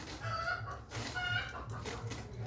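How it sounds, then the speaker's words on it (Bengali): Hens in a home yard clucking loudly and insistently, repeated squawking calls overlapping in short bursts, fairly close with a faint background. "কি চেঁচাচ্ছে মুরগিগুলো"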